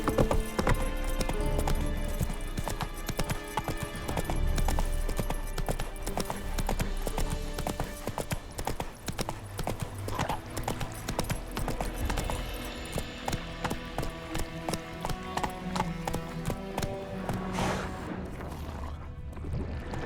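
Rapid hoofbeats of a horse galloping in The Witcher 3 video game, loud and continuous with a steady rhythmic clatter, a whinny, and game music and ambience underneath.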